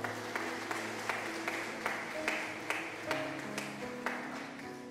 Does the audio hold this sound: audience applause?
yes